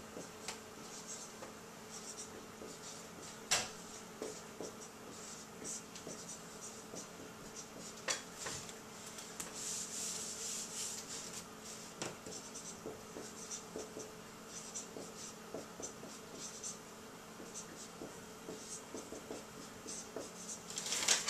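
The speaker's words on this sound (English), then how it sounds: "I'm going to write these steps again up here so it can have more room down here." Steps are written by hand in a quiet room, a soft continuous scratching and rubbing of a pen on paper with faint taps, and no talking.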